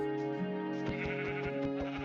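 Minecraft sheep bleat in a wavering, repeated call over steady background game music, moderately close and clear.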